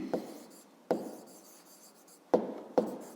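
Handwriting an answer during a fifth-grade maths exercise: four distinct pen-on-paper scratches, each a sharp stroke followed by a short fading rub, close and quiet, with no talking.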